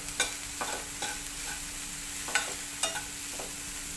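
Samosa filling for leftover-chapati patti samosas sautéed in a pan, a low steady sizzle under a faint hum, broken by about eight crisp spoon scrapes and clinks at an unhurried, uneven pace.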